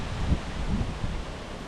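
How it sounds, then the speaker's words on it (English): Wind gusts across a fishing lake outdoors, buffeting the microphone with a steady low rumble and rustle that swells briefly and stays close and fairly loud throughout. "Here comes the wind."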